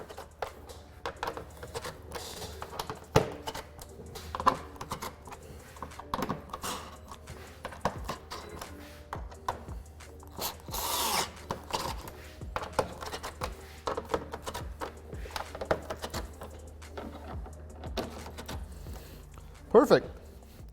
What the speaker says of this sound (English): I'm going to start at one end and just thoroughly tighten each one.